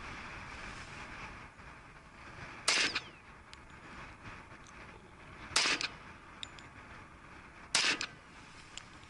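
Three sharp, loud reports from a Glock 20 10mm handgun with its factory 4.5-inch barrel, firing Liberty 60-grain rounds, spaced a few seconds apart over steady outdoor background noise.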